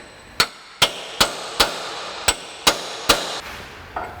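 A hammer strikes a chisel on a tie rod end of a 2004 Ford Explorer, seven sharp metallic blows at a steady pace, close and ringing, then a faint final tap, no voices.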